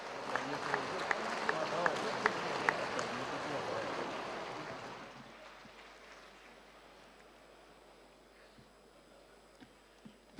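Applause from an audience at a health engineering and minerals show in Lahore, a dense burst of clapping for about five seconds that fades into quieter hall ambience with faint murmurs.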